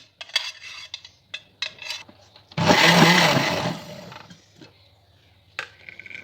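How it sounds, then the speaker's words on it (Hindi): An electric grinder whirs loudly for a couple of seconds while blending tomatoes with ginger-garlic paste, with clinks and knocks of handling before and after the burst. "इन सबको ग्राइंड करेंगे।"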